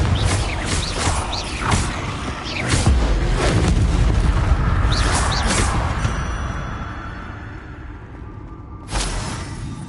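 Confringo blasting spells in Hogwarts Legacy erupt in a sustained barrage of heavy booms and crashing debris, rumbling loudly for several seconds before fading, with one last sharp blast near the end.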